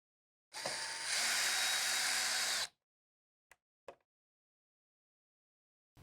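An electric drill whirs loudly for about two seconds removing screws from a Furrion rooftop air conditioner, spinning up then cutting off, followed by a couple of faint clicks.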